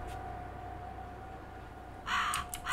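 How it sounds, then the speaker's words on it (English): A crow caws in the horror video game Ikai, two or three harsh calls arriving late over a quiet, humming ambient background. "Is there a crow in the building?"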